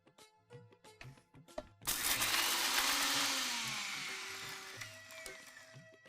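After a few light clicks and taps, a kitchen grinder crushes turmeric and black pepper powder with a loud, continuous whir that slowly fades toward the end, with no talking.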